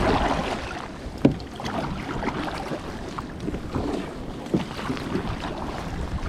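Kayak paddling on winter water during a fishing trip, paddle strokes splashing and dripping at an uneven rhythm with two sharper knocks, close, under steady wind noise on the microphone.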